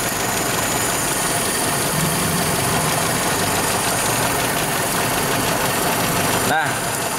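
A car engine idles after being restarted partway through an air-conditioning refrigerant refill, giving a steady, close, continuous hum with a brief dip near the end.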